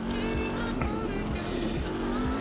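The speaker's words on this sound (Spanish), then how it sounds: "cómo suena la Honda en el garaje" A Honda motorcycle engine in the MotoGP 19 video game drones loudly and steadily with a buzzy, uneven tone, close up, rising slightly near the end, with no voices.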